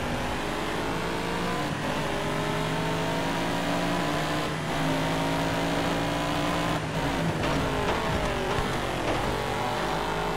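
A race car engine in the video game DTM Race Driver 3 revs and accelerates continuously, a loud sustained roar with rising and falling pitch through gear changes and no pauses.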